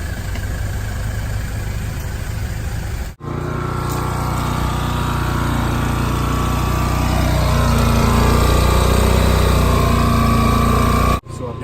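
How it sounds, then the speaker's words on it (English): A portable generator running on 87 gasoline while charging a scooter outdoors, a steady close mid-pitched engine drone that holds throughout, with one brief cut near the start and another near the end. "I've got my generator going behind, charging my scooter"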